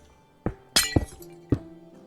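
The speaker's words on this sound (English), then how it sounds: "Relaxing glass smashing sounds to cry to sleep to." Glass blocks breaking in Minecraft Beta 1.7.3: a series of four sharp, close crashing and clinking hits, unevenly spaced, each with a short ringing tail, with no talking.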